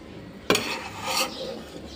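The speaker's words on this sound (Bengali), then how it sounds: "তো এখন ঢেলে নেব এইভাবে প্লেটের মধ্যে" Food is poured onto a plate, starting with a sharp clatter of utensil on dish, then a sliding, scraping rush as it spills out, close and moderately loud.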